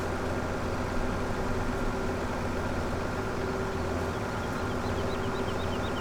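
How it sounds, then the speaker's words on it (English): Tractor engine from Farming Simulator 2017, near a campsite in Rattle Snake Valley: a steady, droning low idle that runs evenly throughout without breaks, with a faint tonal whine above it. "We may be disturbing the peace with our tractor."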